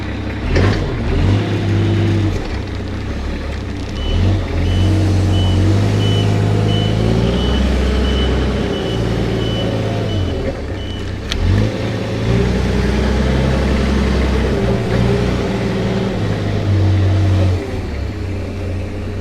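A D11 bulldozer's heavy diesel engine fires up with a sharp start, then runs in a loud, deep rumble that rises and falls with revving, a thin reversing-style beep tone running alongside for a while.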